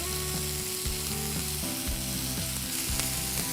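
Freshly chopped tomatoes, added to onions, fry in a pan with a dense, steady hiss. Periodic stirring thuds run through it, and there is no talk.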